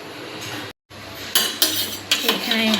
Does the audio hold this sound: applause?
no